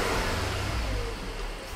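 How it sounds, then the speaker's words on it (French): A Cupra Formentor TSI with the 310 hp engine, already warm, idles and revs in a steady low-pitched drone, close and fairly loud, with no talking over it. "Est-ce qu'on démarre pour voir ce que vaut ce moteur 310 chevaux?"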